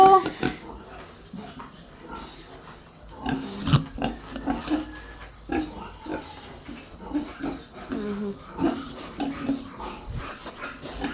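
A domestic pig being bathed grunts and squeals in short, irregular bursts, close and fairly loud, while people talk intermittently in the background.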